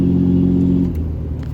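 A truck engine with a fuel rail pressure fault gives a loud, close, low rumbling rev that drops off after about a second and settles into a rougher, quieter idle.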